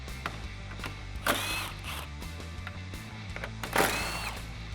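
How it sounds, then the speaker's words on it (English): A 10mm socket on a ratchet wrench backs out headlight mounting bolts on a 2018-2020 Ford F150, with close, rapid clicking in short bursts and two louder ratcheting runs, with no talking. "switching over to a 10mm socket, we have a couple of bolts to remove"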